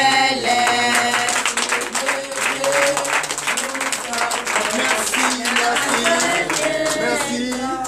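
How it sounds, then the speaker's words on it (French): A church congregation at a Beninese morning prayer service claps loudly and steadily, the applause blending with music and voices that continue throughout. "demande d'applaudir très fort"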